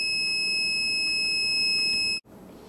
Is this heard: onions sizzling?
no